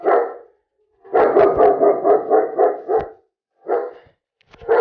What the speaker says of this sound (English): obviously very barky, very reactive